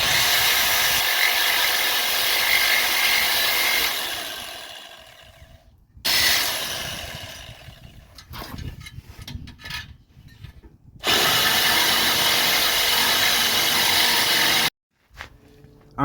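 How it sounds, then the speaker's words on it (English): A metal-cutting saw grinds through the exhaust pipe of a 1997 Dodge Dakota V6, loud, harsh and continuous in long bursts, broken by short pauses, stuttering restarts and abrupt stops. "I had to buy the metal saw that cuts through pipe"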